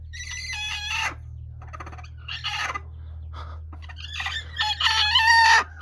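Several Gurk chickens cluck and squawk close by in uneven bursts in cold winter weather, one call stretching into a drawn-out crow-like cry, over a low steady hum.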